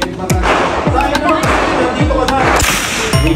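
Gunshots at the Armscor Marikina shooting range ring out as a rapid string of about eight sharp, loud reports with a slight echo after each. Faint talk can be heard around them.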